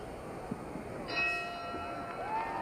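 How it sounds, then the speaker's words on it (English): A boxing ring bell sounds for round 1 of a heavyweight bout between Muhammad Ali and Buster Mathis, a clear ringing tone rising over steady arena crowd noise. "The bell for round 1."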